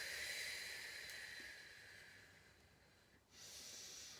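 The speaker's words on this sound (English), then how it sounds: "Making sure you're deep breathing." Slow, steady breathing during a Pilates stretch, soft airy inhales and exhales with a faint hiss, close and quiet, with a brief pause before the breath resumes.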